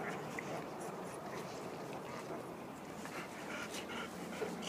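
Young puppies in a litter with their mother whimpering and panting softly, a faint, steady low murmur of small whines close by with no speech.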